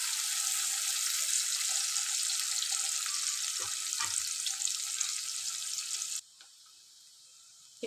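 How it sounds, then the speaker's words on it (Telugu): Onions frying in a pan for aloo capsicum curry, a steady loud hissing sizzle that cuts off abruptly near the end, leaving near silence. "ఇప్పుడు చూడండి, ఆనియన్స్ అయితే ఇట్లా మంచిగా ఫ్రై అవుతున్నాయి కదా."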